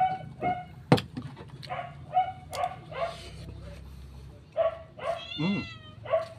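Several cats meow repeatedly near a meal of cheese, tuna, mayo, nori and rice, the short bright calls recurring through the clip alongside a few yips and clatter.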